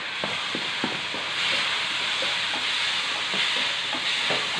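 Tomatoes frying in a pan with softened onions and curry leaves, a steady close sizzle and hiss with light stirring scrapes and taps scattered throughout.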